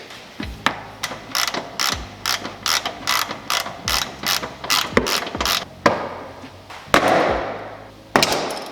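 A ratchet clicks in repeated quick bursts with short pauses between them while intake parts come off a Subaru WRX, close and crisp, punctuated by a few sharper clacks.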